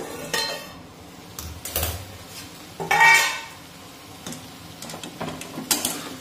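A metal lid clanks and scrapes off a wok of cooking dried-shrimp chutney, with a few lighter clinks of cookware before and after.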